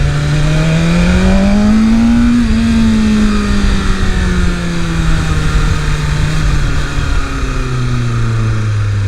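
A 2023 BMW S 1000 RR superbike engine runs loud and close throughout while being ridden on the street, its pitch rising as it revs up, then easing off and steadying, with strong wind roar and no talking.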